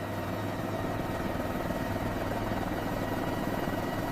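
Largest American helicopter ever built starting up and roaring to life, a steady loud low engine and rotor drone with continuous heavy turbine whine, alone and unbroken throughout.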